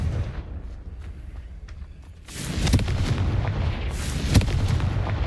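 A Confringo fire-spell blast in Hogwarts Legacy erupts after a quieter opening, followed by a sustained rumbling roar with sharp booming pops, loud and close.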